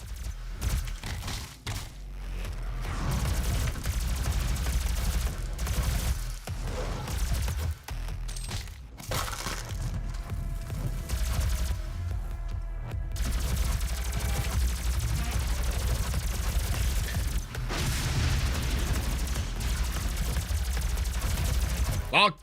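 Rapid shotgun and machine-gun fire in Doom 2016 on Nightmare difficulty, dense and almost continuous bursts and blasts with thuds, with someone talking over the shooting.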